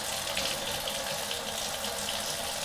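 A steady stream of water rinses cleaner off, an even hissing spray that continues for a couple of seconds with nobody talking.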